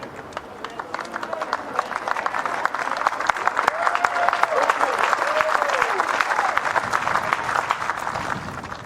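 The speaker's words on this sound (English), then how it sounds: "It's not just New Zealand fans applauding, the entire audience here" Audience applause at a lawn bowls men's singles final between Canada and New Zealand, steady crowd clapping throughout with a commentator talking over it.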